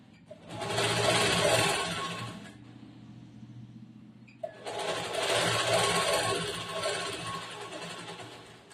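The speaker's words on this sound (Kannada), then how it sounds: "ಒಳಗಡೆ ದಬ್ಬಿ ಹೊಲಿಗೆ ಹಾಕ್ಬೇಕು." Electric sewing machine stitching the lining of a blouse, running in two steady bursts of a few seconds each with a short quiet pause between them, close and clear.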